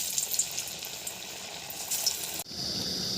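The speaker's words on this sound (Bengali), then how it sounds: "একে একে ভেজে নেব।" Puffed rice chops frying one by one in hot oil in a kadai, a steady close sizzle and crackle throughout, swelling into a louder fresh hiss near the end.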